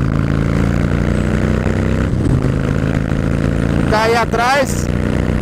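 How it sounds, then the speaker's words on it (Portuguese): A Harley-Davidson with a Vance aftermarket exhaust roars steadily at close range at a motorcycle event, engine loud and sustained, revving up sharply near the end while someone speaks over it. "Nossa, olha como isso grita, cara. Esse escapamento é muito louco, velho."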